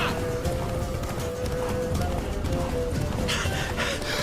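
Galloping hooves of Roach, the horse in the video game The Witcher 3, thud in a steady rhythm under a continuous tone and ambient game sound, with a voice speaking over it.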